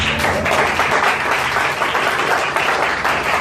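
A church congregation at a Sunday service applauds the Lord, steady dense clapping filling the room without letup, close and loud, with a few voices mixed faintly into the ovation.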